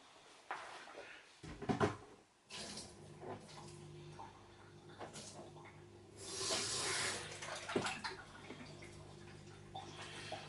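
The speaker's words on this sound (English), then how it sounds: "I'm going to pour a little bit away and put some cold water in." Water is poured out of a wooden kuksa cup and cold tap water is run in indoors, a steady splashing stream building midway, with knocks and clunks of cupboards or handling around it.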